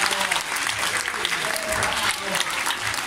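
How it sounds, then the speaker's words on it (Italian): Audience applause during a show at Safari Park Pombia in Italy, steady dense clapping from a crowd, fairly soft and distant, with some voices mixed in. "Facciamo un bel applauso a ragazzino che ha"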